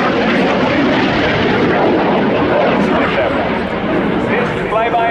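Swiss Air Force Patrouille Suisse jets fly a display at the Royal International Air Tattoo 2016, a loud, steady roar of engines filling the whole stretch, with a voice talking over it.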